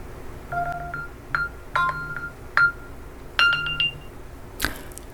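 A Samsung smartphone sounds its alarm after a Bixby find-my-phone command: a series of short, bright electronic tones in a melodic pattern, spaced over several seconds and ending in a sharper chime, clear against a quiet room.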